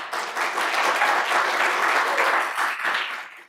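An audience at Snow College breaks into loud, sustained applause to welcome author Brandon Mull, dense clapping filling the room and tapering off at the end.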